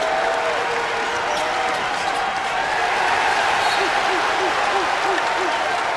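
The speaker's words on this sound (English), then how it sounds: "It's the first time we've really heard the crowd here in the Rally Center come alive." College basketball crowd at the Rally Center cheering after a turnover in a Northern Iowa vs St Bonaventure game, a steady broad roar with applause and occasional sneaker squeaks, commentators talking over it.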